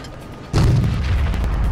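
An IS-3 tank cannon fires once in World of Tanks Blitz, a single sudden loud boom with a heavy rumbling tail that carries on to the end.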